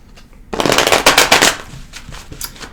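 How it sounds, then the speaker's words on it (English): A tarot deck being shuffled by hand, a quick riffling flutter that starts abruptly after a quiet moment, then breaks into a few shorter, softer bursts. "I just want to mix the cards up a little bit here, and then we'll do some shuffling."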